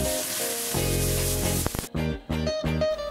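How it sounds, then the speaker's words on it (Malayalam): Mustard seeds, fenugreek, torn dried red chillies, chopped shallots and curry leaves sauté in coconut oil for sambar, sizzling briskly under a music track that takes over in the second half. "കുറച്ച് വെളിച്ചെണ്ണയിൽ കടുകിട്ട് പൊട്ടിച്ച് 1 സ്പൂൺ ഉലുവയും 3-4 കൊല്ലംമുളക് കീറിയിട്ടതും കുറച്ച് ഉള്ളി അരിഞ്ഞതും വേപ്പിലയും കൂടി ചേർത്ത് നന്നായി വഴറ്റിയെടുക്കാം"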